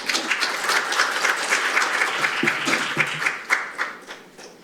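Clapping from a seminar audience at a Korean National Assembly defense semiconductor briefing, dense and steady for several seconds, then thinning and tapering off near the end, with a few sharper individual claps standing out.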